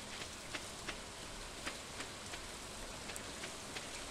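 Steady rain from the farming video game Stardew Valley, a dense even hiss with faint scattered drip ticks throughout, continuous and without voices.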